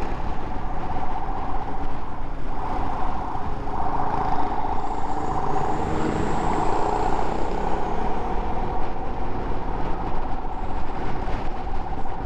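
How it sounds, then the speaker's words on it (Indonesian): Military TNI vehicle siren ahead on a busy road between Pemenang and Mandalika, a steady wailing tone riding over loud continuous traffic and engine rumble throughout. "Ada kendaraan TNI di depan, jadi noise-nya begitu sebagai sirinenya ya."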